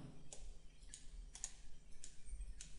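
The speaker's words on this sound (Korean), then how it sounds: "더블 클릭하겠습니다" Sharp computer mouse clicks, several quick paired taps spaced across a couple of seconds, faint and close over a low hum while working in Autodesk Inventor software.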